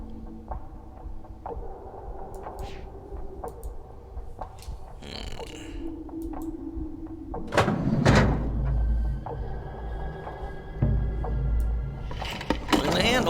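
Inside the Myst III Exile video game, an elevator door rumbles and slides with a low grinding hum, ending in heavy thuds, set against faint ambient tones and scattered clicks.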